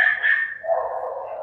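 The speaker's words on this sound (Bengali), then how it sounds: "চিৎকারের আওয়াজটা শুনে আপনারা বুঝতেই পারছেন যে দাদার ডগ ক্যানেলে কত রকমের ডগ বা ডগের পাপ্পি আছে" One dog in a kennel housing French bulldogs, American bullies and boxers lets out a single short, high yelp that slides downward into a whine, close and alone.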